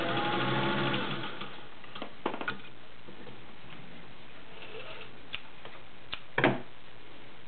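A vintage Singer 201-2 sewing machine with a potted motor sews forward through heavy leather layers, a steady close whir for the first second that then drops to a faint hum broken by a few sharp ticks and clacks.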